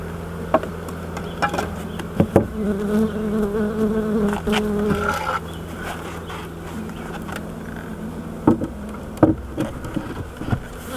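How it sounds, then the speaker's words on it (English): Bees buzz steadily around a newly installed hive set up for the season, a close, continuous drone with a few louder passes and knocks near the start and end. "I got the bees in their new home for the season."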